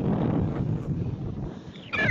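Strong wind blowing across a beach on a stormy evening, a steady broadband roar buffeting the microphone throughout, with a brief louder gust near the end.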